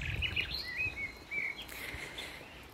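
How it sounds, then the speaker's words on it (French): Birds sing outdoors in wind, with several short clear chirps and whistled phrases over a soft rushing breeze and low gusts, faint and somewhat distant. "écoutez les oiseaux aussi, et le vent"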